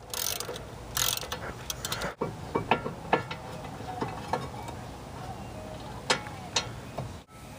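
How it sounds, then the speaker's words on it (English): Ratchet wrench clicking in short bursts while bolts on the caliper mounting bracket of a BMW E36 front brake are loosened, with sharp metallic ticks and clanks, close and fairly quiet, no talking. "So now we're going to go ahead and take off the caliper mounting bracket."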